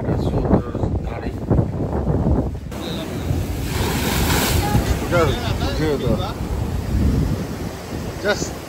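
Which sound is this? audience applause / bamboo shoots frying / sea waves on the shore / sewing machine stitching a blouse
sea waves on the shore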